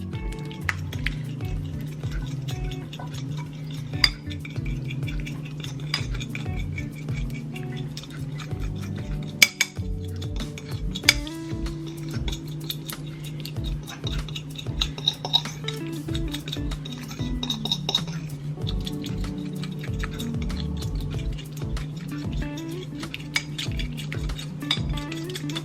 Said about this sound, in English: I'm just gonna kind of whisk it together